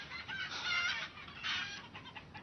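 Caged hens in a large industrial indoor poultry hall in Germany cluck and cackle together in a brief, fairly faint burst of overlapping fowl calls.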